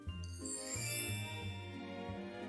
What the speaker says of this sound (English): Bells rang from the towers, and the kingdom rejoiced.